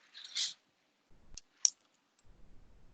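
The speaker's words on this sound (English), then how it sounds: "I'm just typing in to see what they get." A few sparse key clicks on a computer keyboard, heard as isolated taps with pauses between them, close and fairly quiet against a near-silent room.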